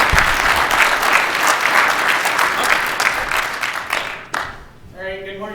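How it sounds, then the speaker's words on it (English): Audience applause at the ShmooCon 2012 security conference, a dense burst of clapping from a crowd that swells loudly for about four seconds, then fades out as a voice begins speaking. "Please give him a warm round of applause."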